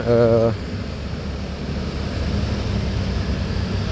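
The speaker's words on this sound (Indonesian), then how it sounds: "Jadi di tengah mal ada air terjun buatan" An artificial indoor waterfall in a shopping mall in Makassar gives off a steady, broad rush of falling water. A brief tonal sound opens the clip, and the rush continues unbroken afterward.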